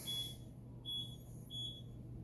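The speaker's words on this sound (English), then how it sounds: "You'll hear the beeping in the background." Three short high-pitched electronic beeps from a phone app in HDR mode, evenly spaced, sound over a steady low hum in a quiet indoor space.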